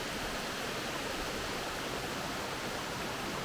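Water pours down a waterfall, a dense, even rushing hiss that holds steady throughout without any other sounds.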